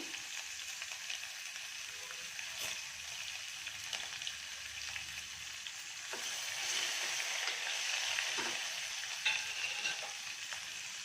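Spices, onion, garlic and curry leaves crackle and sizzle steadily in hot oil, a dense close frying hiss with scattered sharp pops that grows slightly louder partway through, no voices.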